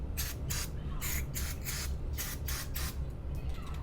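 Carburetor cleaner sprays onto parts of a cheap used generator in a string of short, hissing bursts, about eight in roughly four seconds, close up over a steady low background hum.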